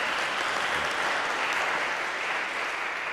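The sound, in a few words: applause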